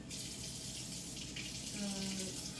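Filtered water runs from a kitchen tap in a steady, close splashing stream while sourdough is being made, with a brief tone rising as a container fills near the end.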